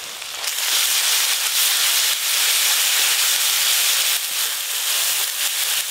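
Chili paste and mustard paste sizzle in hot oil with lightly fried chopped onions, a loud, steady, close frying hiss that runs throughout.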